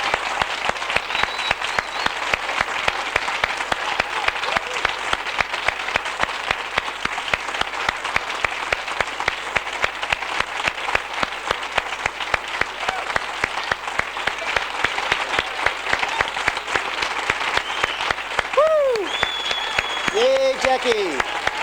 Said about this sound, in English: we're going to stand up and whistle and cheer.